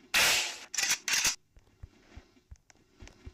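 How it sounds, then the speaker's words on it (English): Gunfire in the Roblox game Super Hero Tycoon: three loud, sharp bursts of shots in quick succession, followed by softer scattered thuds and clicks, with no talking. "Just shoot your way out."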